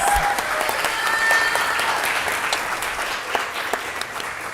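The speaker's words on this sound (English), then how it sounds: "Could you please give them a great big hand and applause?" Sustained applause from a room full of people at a school board meeting, steady clapping that fades slightly toward the end, with a brief faint tone early on.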